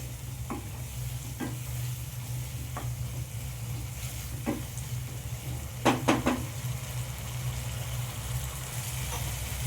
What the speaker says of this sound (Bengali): ভেজিটেবলটা আমার কষানো হয়ে গেছে